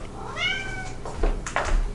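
Cat meowing indoors, one clear drawn-out meow close by followed by a couple of shorter faint sounds.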